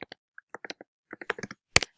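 Quick taps on a computer keyboard spell out a web address, irregular close clicks in short bursts with brief pauses, crisp and nearby with no voices.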